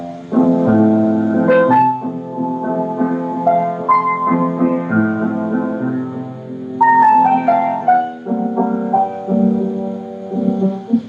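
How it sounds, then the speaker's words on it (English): The slow movement of Mozart's Piano Concerto K467, known as Elvira Madigan, plays as calm, sustained orchestral and piano music with gently moving melodic lines and soft swells, without any voices. "the slow movement of Mozart's Concerto K467, a piano concerto"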